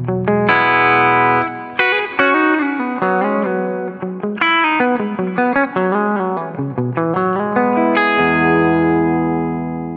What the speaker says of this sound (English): the bridge pickup on its own in this instrument does have a real sweet twang to it